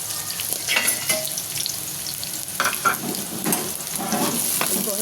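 Garlic and onion fry together in oil in a kadhai, a steady close sizzle with stirring scrapes and crackling bursts throughout, no voices over it.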